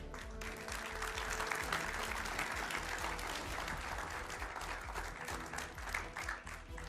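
A studio audience at a televised political debate applauds to welcome guests Prem Shukla and Alok Sharma, with steady, even clapping lasting the whole stretch over a low background tone.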